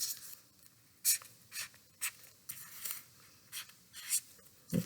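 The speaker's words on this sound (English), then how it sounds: "So right now I'm going to just do some lines quickly to make some letters." A pen or marker makes quick, brisk strokes while lines are drawn to form letters, a series of short separate scratches that are fairly faint and close.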